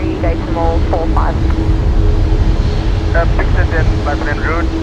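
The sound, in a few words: aircraft rolling down the runway at Brisbane Airport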